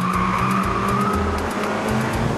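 A 2007 Audi TT driving hard, engine note rising and falling in quick pulses with a tire-squeal whine over it, loud and close throughout with no talking.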